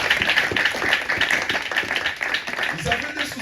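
Congregation at a Sunday church service clapping and acclaiming the Lord together, a dense, steady wash of many hands close and loud, with voices mixed into the ovation.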